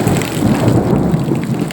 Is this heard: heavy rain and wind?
yes